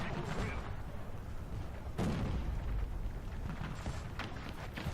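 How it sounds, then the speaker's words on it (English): Incoming artillery shells burst around a vehicle in War Thunder, a dense rumbling battlefield din with one sharp, loud impact in the middle and smaller thuds later, all close and continuous. "we've got, oops, and artillery shells coming in there as well"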